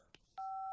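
A telephone keypad dialing an international call to India gives a short electronic beep, then a steady sustained dual-tone signal held loud and close until the end.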